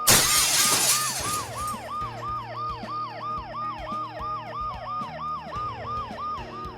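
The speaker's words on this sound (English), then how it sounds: "in spite of the noise I made breaking the glass and the ambulance's deafening siren" An ambulance siren wails loudly and steadily in the Dead Synchronicity video game, its rising and falling tone cycling rapidly, right after a sharp burst of window glass shattering under a crowbar at the start.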